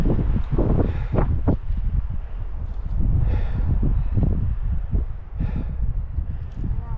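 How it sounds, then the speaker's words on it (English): Wind gusts buffet the microphone on a steep mountain trail in Rocky Mountain National Park, loud low rumbling roars rising and falling throughout with scuffs and movement close by. "It's getting a little windy."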